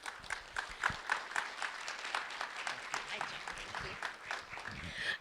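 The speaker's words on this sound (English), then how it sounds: "A round of applause for our school board members." An audience applauds school board members, scattered rhythmic clapping running throughout at moderate volume, with voices and crowd noise mixed in.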